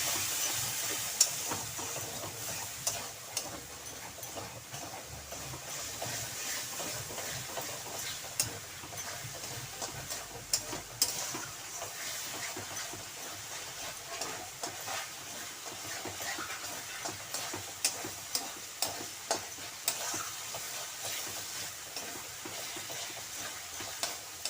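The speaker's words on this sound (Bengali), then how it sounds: "আবার সামান্য জল দিয়ে মশলাটা ভালোভাবে কষিয়ে নেব।" Spice paste with a splash of water fries and is stirred in a pan for a chal potol dish, a faint, even hiss dotted with small scattered clicks and scrapes throughout.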